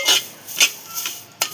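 Drumstick leaves dry-roasted on low flame in a pan, with four separate scraping, rustling stirs spaced through a short moment, close and moderately loud, no voices.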